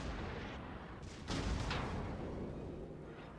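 A battleship gun salvo in the naval video game World of Warships fires as a single heavy boom midway, followed by a rumbling decay over a faint low background hum.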